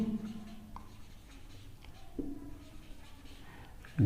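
Pen or marker writing on paper during a Class 9 maths lesson on statistics, a soft, scratchy stroke sound running steadily at close range with faint background hum and brief taps.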